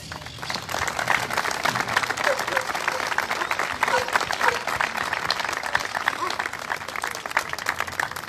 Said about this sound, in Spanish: Primero, un gran aplauso para todos ustedes.